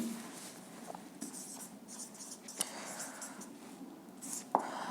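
Pen or chalk writing out a matrix result during a classroom lecture on symmetric matrices, soft scratchy strokes with a few sharper taps, quiet and close in a calm room.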